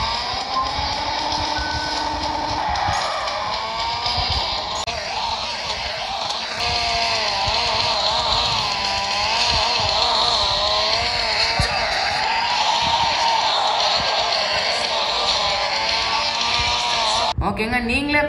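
Car racing in the mobile game Street Outlaws played on a Realme Narzo 10 phone: a loud, continuous engine roar rising and falling through gear changes, cutting off abruptly near the end.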